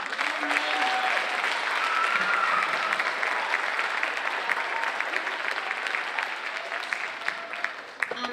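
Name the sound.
audience applause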